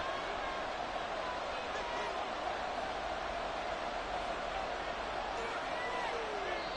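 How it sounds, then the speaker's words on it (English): Stadium crowd noise from an EA Sports football video game, a steady loud roar of cheering fans under continuous commentary. "This crowd turning up the decibel level."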